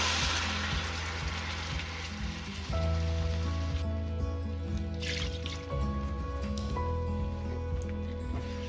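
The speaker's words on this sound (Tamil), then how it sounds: "இப்போ அதே பேனில் நான் அரைச்சி வச்சிருக்கிற பேஸ்ட்டை ஊற்ற போகிறேன்" Ground mushroom paste for mushroom soup is poured into a hot pan, producing a steady, close sizzle like rain on a surface, running continuously alongside low, sustained background tones.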